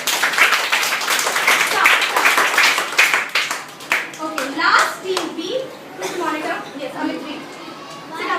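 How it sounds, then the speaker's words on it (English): Children clapping together in a classroom for a classmate, a dense burst of hand claps that thins into scattered claps and chatter toward the end. "Can everybody give her a clap because she has done it first."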